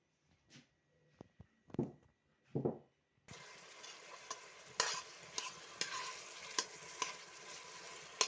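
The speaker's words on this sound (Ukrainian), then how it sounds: "Цибулька наша прожарюється" Chopped onion hits hot oil in a pot, and a continuous sizzle follows with scattered stirring clicks. A few quiet knocks and handling sounds come before it.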